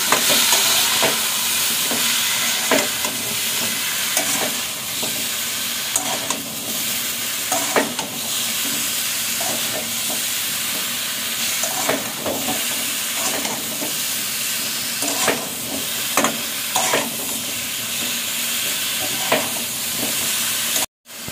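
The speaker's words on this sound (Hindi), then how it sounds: "स्वाद अनुसार लुण हलदी आ लुण पकईकि फ्राई कर" Spices fry with salt and turmeric in a pan, a loud, steady sizzling hiss running throughout, broken by repeated scraping stirs at an irregular pace and heard up close.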